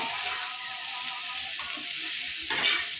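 Notey greens sizzle in a pan with a little cumin powder as they are stirred, a steady close frying hiss with a louder scraping stir near the end.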